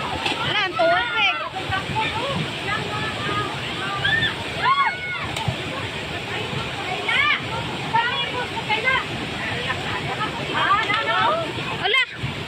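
Flood water rushes and sloshes continuously through a street in Davao City, Philippines, loud and close, while several people shout and talk excitedly over it.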